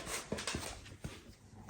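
Excited puppy and dogs whimpering indoors, a few short close yelps and whines over a steady background, with brief bursts spaced through the moment.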